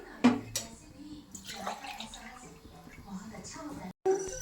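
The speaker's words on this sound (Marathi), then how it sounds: "त्यासाठी 2 ग्लास पाणी घालायचं आहे।" Two glasses of water pour into a kadhai set on a gas stove, a short splashing gush followed by quieter trickling, with someone talking over it.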